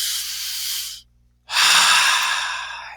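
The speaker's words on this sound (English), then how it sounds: "so take a deep breath" A deep breath drawn in and let out, a long breathy inhale, a short pause, then a strong airy exhale, close and alone.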